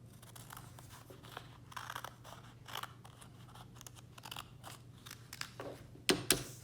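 Scissors cut a paper winter greeting card in a quiet room, making faint repeated snips and crisp crunches, with a sharper, louder snip and rustle near the end.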